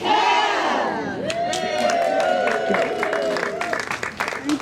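An outdoor crowd at a Sun Day gathering in Eugene, Oregon, bursts into loud cheering, whoops and applause for a singing group, with voices rising together over sustained clapping.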